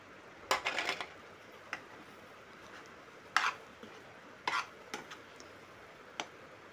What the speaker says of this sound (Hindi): इसको अच्छे से मिक्स करते जाइए चम्मच से